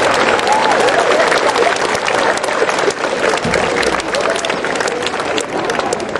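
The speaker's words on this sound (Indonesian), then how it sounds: "ayo tepuk tangan untuk teman-teman" Crowd applauding at an outdoor flag ceremony, with loud, sustained clapping from many people holding steady throughout, and faint voices mixed in.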